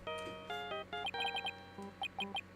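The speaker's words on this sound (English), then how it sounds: "I love that it's the same fucking ringtone." A phone ringtone from the video game Ace Attorney Dual Destinies chimes in short, bright, repeated electronic tones, quiet and clear with a few pauses, and no voices.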